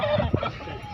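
A chicken clucks a few times up close amid busy background chatter and noise at a pet market in Bocaue, Philippines.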